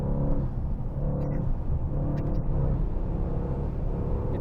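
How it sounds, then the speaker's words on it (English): A 900-horsepower carbon-bodied sports car pulls smoothly under throttle in fifth gear, giving a steady, moderately loud low engine rumble with mild revving and whir from inside the car, no voices. "The way this car responds to the throttle. No loud screaming."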